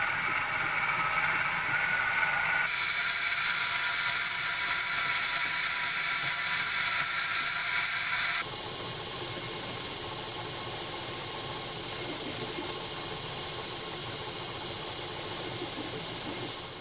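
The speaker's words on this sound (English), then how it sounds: "So what I'm going to do is throw on a 400 grit belt, and I'm going to use my small wheel attachment for the inside here" A belt grinder fitted with a 400 grit belt and a small wheel attachment sands a knife. It gives off a steady, close mechanical whine and hum that drops to a lower, quieter tone partway through, with no talking.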